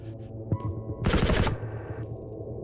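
A Mac-10 fires one rapid automatic burst of about half a second in the VR game Shotwood VR, loud and close over a low background hum, with no talking.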